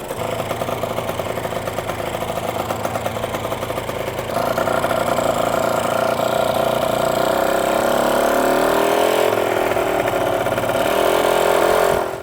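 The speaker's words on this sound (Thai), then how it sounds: "รถก็ติดเป็นที่เรียบร้อยแล้วนะครับเดี๋ยวผมจะเอารถไปขับให้ดูนะครับ" A restored 1990s Kawasaki Victor 150cc motorcycle engine runs close and loud, idling steadily before revving up and holding a higher, throatier drone.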